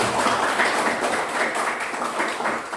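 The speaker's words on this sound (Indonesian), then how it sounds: "Kalau siap, mana tepuk tangannya?" Classroom of students applauding on cue, a steady dense patter of many hands clapping at moderate loudness throughout, with no talking over it.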